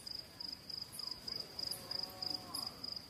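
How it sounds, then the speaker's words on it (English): Crickets chirping at night, faint and steady, in regular pulsed trills repeating every half second or so over a quiet background hiss. "Actually, I'm recording crickets."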